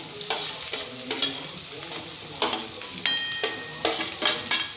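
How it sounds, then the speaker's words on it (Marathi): Onion and garlic sizzle in a hot pan while being stirred, with a steady frying hiss broken by repeated scraping stir strokes, close and fairly loud, with no voices. "कांदा पूर्ण लाल होईपर्यंत तो परतून घेणार आहोत"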